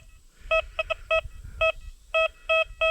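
An XP Deus metal detector with a low-frequency coil sweeping for deep high-conductive targets gives a run of eight short, bright electronic beeps in an uneven rhythm, loud and close over faint handling noise.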